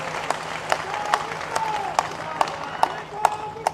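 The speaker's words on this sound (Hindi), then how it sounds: "एक बार जोरदार तालियां हमारे सांसद जी के लिए बजाएं।" A crowd at a public development event in Mehrauli, Delhi claps for their member of parliament in a sharp, rhythmic beat, roughly two claps per second over a low background hum.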